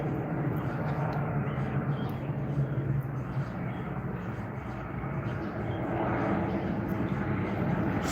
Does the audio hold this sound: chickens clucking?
no